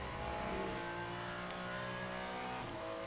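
A GT3 race car engine in the Le Mans Ultimate racing game, heard on the Bahrain Outer circuit as a steady, droning roar that holds across the whole stretch, smooth and continuous with slight pitch drift.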